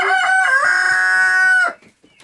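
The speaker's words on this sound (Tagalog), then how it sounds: "Dalawang rooster sa ibabaw, isang hen, isang hen, oh, dalaw, dalawang hen sa baba at saka isang uh, rooster." Rooster on a farm with hens nearby gives a single loud, close crow that cuts off abruptly, followed by brief quiet.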